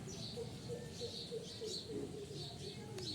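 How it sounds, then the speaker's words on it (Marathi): Birds calling from a leafy mango tree, soft repeated cooing with faint chirps over a low outdoor background, fairly distant and quiet throughout. "छान असं पक्ष्यांचा आवाज"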